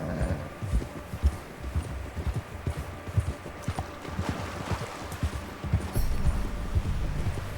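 A horse gallops in the Red Dead Redemption 2 video game, its hooves drumming a fast, steady clip-clop rhythm over a soft outdoor ambience, close and continuous.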